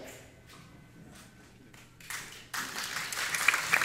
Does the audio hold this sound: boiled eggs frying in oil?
no